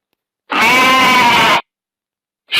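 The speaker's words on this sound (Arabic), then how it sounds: "sheep" A single sheep bleats loud and close, one sustained wavering call of about a second, heard alone with another call just beginning at the very end.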